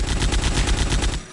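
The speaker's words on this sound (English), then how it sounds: "Yeah, I've got a Vulcan cannon," Vulcan cannon firing in the video game Land of the Dead, a loud rapid continuous burst of gunfire rattling for just over a second before cutting off.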